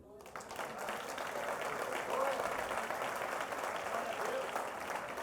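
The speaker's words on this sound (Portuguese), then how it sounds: "Aplauda ele." Church congregation applauding at a worship service, a steady dense clapping wash for several seconds with a faint tonal voice or music underneath.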